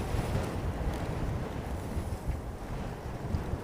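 Strong crosswind buffets a cyclist's microphone on a hilly road near Namyang, South Korea, producing a continuous loud low rumble with gusty fluctuations, no speech.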